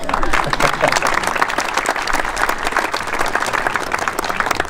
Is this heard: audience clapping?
yes